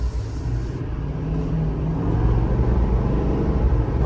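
A GMC L5P Duramax diesel truck with a 10-speed transmission drives along with a steady low rumble that builds slightly as it pulls, close and loud with no one speaking.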